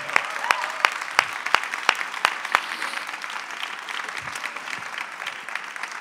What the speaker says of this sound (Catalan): voldria un fort aplaudiment, primer de tot, per cadascuna i cadascun dels solistes